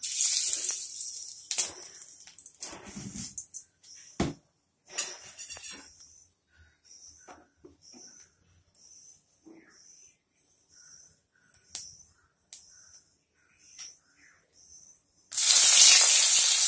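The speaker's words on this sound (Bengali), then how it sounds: "মাছ ভাজার তেল, তার মধ্যে আরো তেল দেওয়া হয়েছে। এখন এই জিরা ফোড়ন দিবে, সাদা জিরা।" White cumin seeds and bay leaf sizzling in hot oil reused from frying fish, heard as a bright, steady frying hiss that swells at the start and again loudly at the end, with scattered pops and clinks of utensils between.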